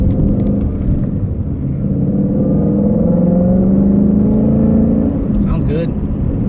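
A 2018 Ford Mustang with a six-speed manual transmission and fresh clutch accelerates under load, its engine tone rising steadily in pitch from inside the cabin, loud and continuous with a brief sound near the end.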